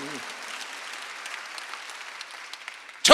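A church congregation applauds during Sunday worship, moderate scattered clapping across the room, with a brief vocal sound at the start and a sharp loud burst at the end.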